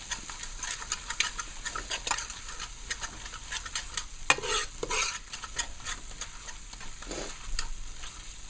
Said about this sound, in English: This has to fry down until it comes to the oil, which is already getting there.